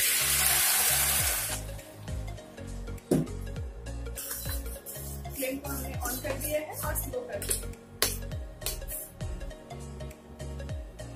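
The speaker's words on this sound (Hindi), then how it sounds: "ये हमने दाल में तड़का लगा दिया है" Hot tempering with green chilli is poured into boiled dal for Rajasthani dal dhokla, giving a loud hissing sizzle for a second or two that quickly dies down under soft background music.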